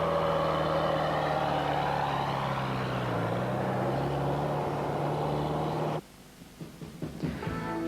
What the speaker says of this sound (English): and Robert Giaxa given the way forward, and they set off in the Toyota.